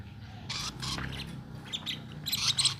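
Lovebirds squawk in a series of short, harsh, bright calls, several in quick succession and fairly close, growing louder toward the end.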